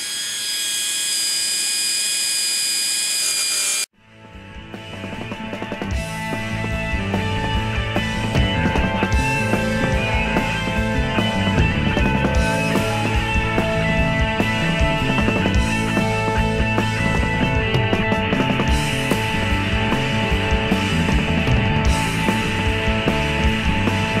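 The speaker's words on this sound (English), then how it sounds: "I'm going to grind it out with my Dremel tool." Dremel rotary tool grinding a piece of 1/4 inch high speed steel: a high whine cuts off, then a loud continuous grinding screech with a dense, shifting buzz runs steadily for about twenty seconds.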